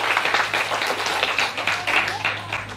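A church congregation in Taravao, French Polynesia, applauds and acclaims, a dense wash of clapping with a voice over it, holding steady before easing slightly.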